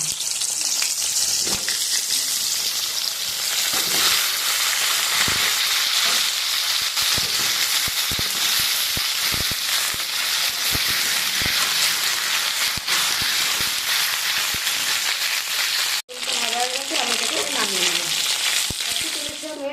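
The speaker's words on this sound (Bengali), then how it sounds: "পটলগুলো আমি ভেজে নেব।" Pointed gourd (potol) sizzles steadily in hot oil in a pan, a loud, continuous frying hiss with brief crackles and a short pause near the end.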